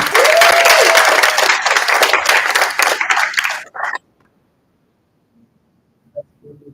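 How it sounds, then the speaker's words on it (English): Audience applause fills a student government meeting, dense clapping that holds for about four seconds and then cuts off sharply into near silence with a few faint sounds. "could we just get a round of applause"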